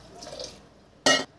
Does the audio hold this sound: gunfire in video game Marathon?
no